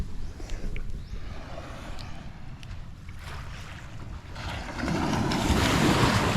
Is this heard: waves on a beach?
yes